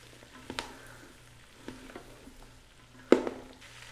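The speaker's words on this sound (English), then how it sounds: "toss the onions and the seasonings around to coat them in the butter" Onions sizzle in butter in a Ninja Foodi on sear/sauté, a faint, steady frying hiss broken by a few soft knocks and scrapes as they are tossed.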